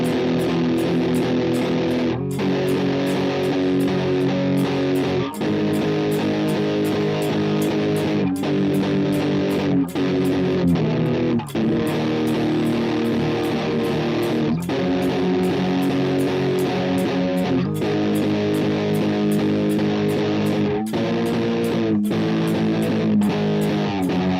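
A heavily distorted, effects-laden music loop plays during a live beat-making session, a gritty saturated tone repeating steadily with regular breaks in the pattern, no voices.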